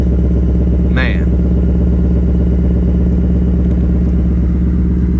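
A Ford Mustang Mach 1 with a 480-horsepower naturally aspirated V8 idles loud and steady close by, a deep continuous rumble, with a brief voice over it.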